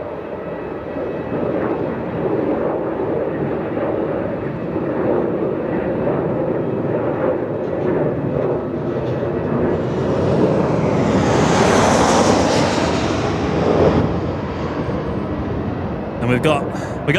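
A Boeing 737 departs Melbourne Airport, its jet roar building steadily from the distance to a loud peak before easing off, heard amid constant wind and open-air noise.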